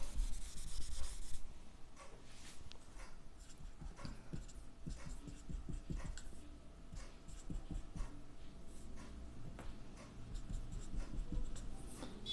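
Chalk or marker writing on a board during an organic chemistry lecture, a steady run of short scratchy strokes and taps filling the clip at moderate level, with no talking.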